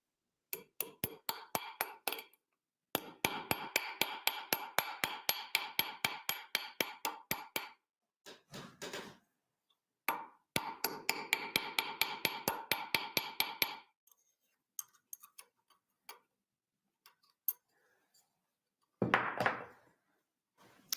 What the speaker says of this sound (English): Now I'm going in here with the flat hammer head.